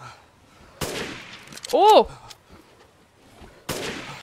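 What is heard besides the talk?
gunshots in video game Resident Evil Village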